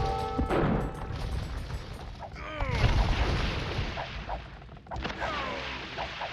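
Cannon galleons firing in a naval battle strategy game: repeated cannon booms and crashing impacts overlap in a dense, chaotic battle mix, with whooshing shots and splashes.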